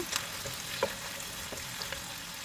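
Garlic and chopped onion sauté in a pan for Filipino pancit bihon guisado, giving a steady soft sizzle with a few light utensil scrapes and stirs, moderately close and without voices.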